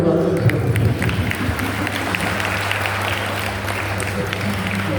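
An audience at a Samskara Sadhana Varga gathering applauds, a dense, steady patter of many hands at moderate distance over a low hum, with a voice speaking briefly at the start.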